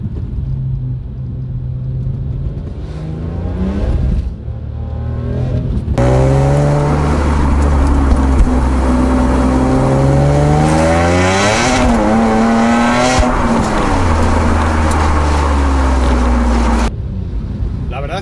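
A BMW M3 accelerates hard up a wet mountain pass, heard from on board with sport mode on. The engine note climbs through several gear shifts, loud and close, with revs rising and dropping between gears.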